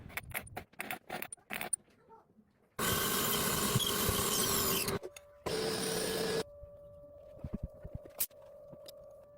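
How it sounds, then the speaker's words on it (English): CNC lathe turning and engraving an indexing ring with angular scale marks, heard as sharp metallic clicks and rattles followed by two long bursts of loud broadband machining noise, then a steady mechanical hum with scattered ticks. "The video shows CNC turning and precise engraving of an indexing ring with angular scale marks used in rotary systems"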